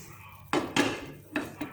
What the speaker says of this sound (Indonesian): Nah, kita balik dengan bantuan piring